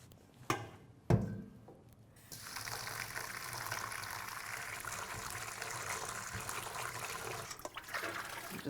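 A couple of sharp knocks, then water gushes steadily from a kitchen tap into a sink to rinse bratwursts, a full, continuous splashing rush that keeps going.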